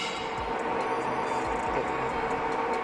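A CU325 universal lathe turning a rusty workpiece at slow speed, a continuous close mechanical whir with faint rhythmic ticking from the moving parts.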